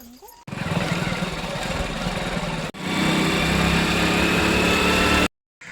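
A motorcycle engine runs steadily and loudly up close, a continuous buzzing drone that breaks off briefly near the middle, then resumes and cuts out at the end. A voice may be faintly present under it.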